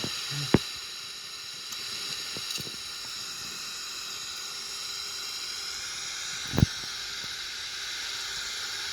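The left engine of a Boeing 777-300ER spools up in a flight simulator game, a steady high-pitched hiss and whine with a couple of brief clicks.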